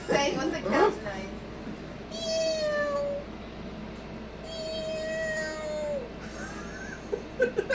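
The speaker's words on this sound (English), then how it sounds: "You should get the app and do the actual noise for a cat." A recorded cat meowing played back from a phone app, giving two long, drawn-out meows in close succession, with shorter bits of chatter and noise around them.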